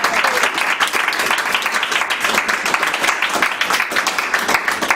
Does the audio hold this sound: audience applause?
yes